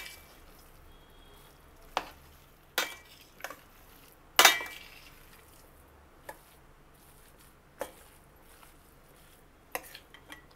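Mango pickle pieces are mixed by hand with ginger-garlic masala spice powder in a bowl for Telangana-style avakaya, heard as sparse close clinks and scrapes against the bowl, with one sharper knock and quiet gaps between.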